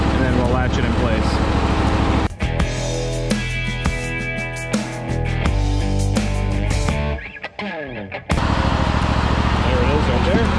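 A Barreto 30-SG stump grinder engine runs loud and steady while the machine climbs onto a tilting rental trailer, with a brief dip in the noise near the end and someone talking over it.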